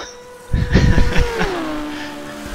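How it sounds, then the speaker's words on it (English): A Can-Am race car roars past nearby during the 1971 Can-Am race at Road Atlanta, its engine note rising and then falling in pitch as it moves away, followed by a fading drone. "hearing the cars fly by. What a wonderful sound"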